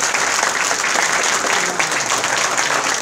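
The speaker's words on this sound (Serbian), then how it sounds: "zato stvarno molim vas jedan aplauz za njih." Dense, steady audience applause at the finale of the 2017 Omiš guitar festival, loud and continuous for the whole stretch with no pause.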